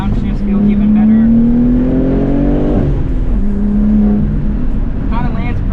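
BMW G80 M3 engine revving as it downshifts, the note rising and falling sharply between gears, loud and close from inside the car, with a voice speaking over it.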